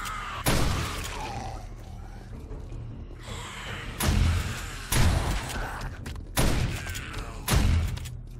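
A shotgun fires repeatedly in the modded survival game 7 Days to Die, five or six loud booming blasts spaced a second or so apart, each with a sharp crack and short decaying tail.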